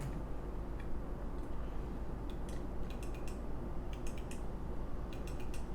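The tape transport of a Tascam 246 Portastudio is handled while loose. Faint clicks, creaks and small ratcheting ticks from its springs and rollers come in irregular clusters over a low rumbling background.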